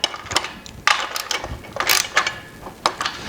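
Metal fasteners on a TX knock-down storage rack are snugged tight by hand with a ratcheting tool. The clicks come in several sharp bursts at uneven spacing, close up, with no talking.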